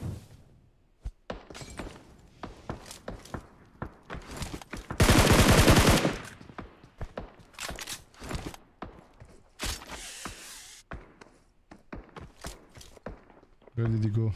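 Gunfire in the battle royale game PUBG Mobile: sharp, close shots crack out in irregular single reports and quick bursts, with one long sustained automatic burst in the middle, over a quiet background.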